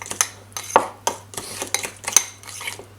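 Spoon scraping and clinking against a bowl while chilli butter spice paste with paprika is mixed, a series of short sharp scrapes and taps at a steady stirring rhythm, close and fairly quiet.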